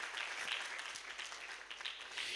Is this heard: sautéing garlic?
no